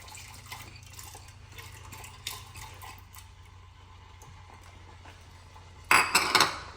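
Quiet kitchen clatter and faint water sounds, then a louder burst of boiled water splashing into a pot of bajra (pearl millet) khichdi near the end.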